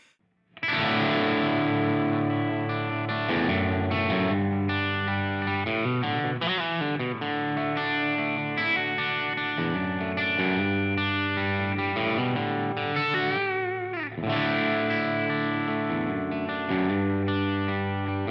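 An electric guitar, a Fender AVRI '62 Jazzmaster with Curtis Novak JM-V and JM-FAT pickups, plays chords and runs through heavy distortion and modulation effects, loud and continuous with no voices.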